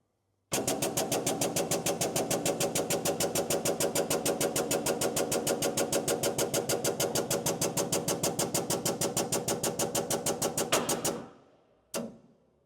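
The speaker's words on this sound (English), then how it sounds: "So Steve's going to raise the truck up" Vehicle lift raising a GM/Chevy HD truck, a loud rapid mechanical rattling that runs steadily for about ten seconds, then winds down and stops, followed by a single brief clunk.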